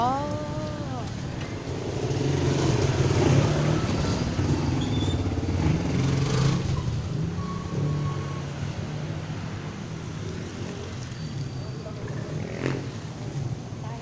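A small motor runs at a lakeside setting, a continuous low engine drone with splashing water, while people talk over it throughout.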